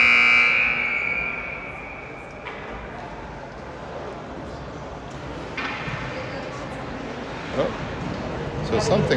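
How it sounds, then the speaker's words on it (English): A loud electronic buzzer sounds at the end of a Dallas Stars Elite vs Dallas Penguins youth hockey scrimmage. It is one steady tone lasting about a second at the start, then gives way to ongoing rink and crowd noise. "The buzzer goes off."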